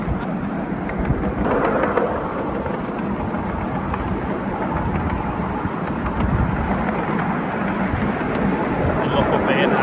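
A low, continuous rumble of a small passenger train rolling along at a tractor festival runs beneath near voices talking throughout.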